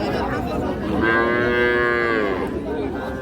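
Young heifer calves at a Bangladeshi cattle market low loudly. One long, drawn-out moo rises above the steady crowd murmur in the background.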